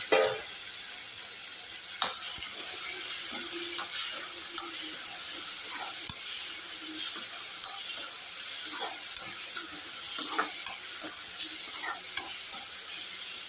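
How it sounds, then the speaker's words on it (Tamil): Tomatoes sautéing in a hot pan until mushy give a steady, close sizzle and frying hiss throughout, with scattered soft stirring scrapes and taps of a spatula, and no voices. "தக்காளி போட்டுட்டு மசிய வதங்கணும்"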